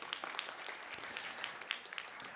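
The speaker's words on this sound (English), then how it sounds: "Applause for them." Faint, scattered applause rises from a theatre audience at a play briefing in a theatre company's venue. The claps are sparse and distant, with occasional sharper individual claps.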